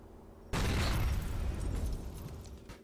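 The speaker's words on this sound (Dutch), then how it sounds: "Die vent heeft zoveel gegeten dat hij ontploft is." A sudden loud explosion in GTA 4 bursts in after a quiet moment, a deep booming blast that rumbles and decays over a couple of seconds.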